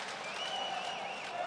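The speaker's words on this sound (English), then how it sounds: "And the crowd are loving it here in Busan." A basketball arena crowd in Busan applauds and cheers in a dense, steady wash throughout, with a commentator talking over the top.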